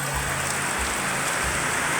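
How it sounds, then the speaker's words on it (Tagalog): Heavy rain pours down continuously, a dense close hiss of drops hitting surfaces that stays even and loud throughout, with no voices. "Kaya ang kusog kayo ang ulan, oy."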